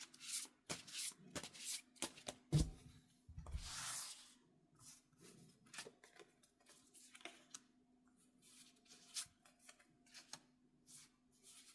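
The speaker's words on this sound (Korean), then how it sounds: "두 분의 관계 흐름을 한번 카드 5장을 선택해 볼게요" Tarot cards are rubbed and shuffled at close range, then individual cards are slid out and set down in a scatter of soft scrapes and taps, with no talk.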